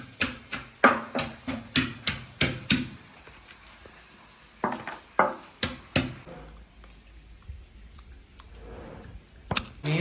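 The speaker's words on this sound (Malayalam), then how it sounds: "ഈ ചുവന്നുള്ളിയൊക്കെ ഞാൻ ചതച്ചാണ് എടുക്കുന്നത്." Shallots are pounded by hand for a Kerala village-style fish masala for red snapper pollichathu, giving crisp, evenly spaced knocks in quick runs, separated by quieter pauses and a few isolated strikes.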